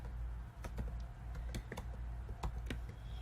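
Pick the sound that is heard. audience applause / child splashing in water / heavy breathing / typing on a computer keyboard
typing on a computer keyboard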